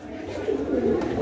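Pigeons cooing at a market stall where birds are sold, a low murmuring coo running steadily through the moment amid background chatter.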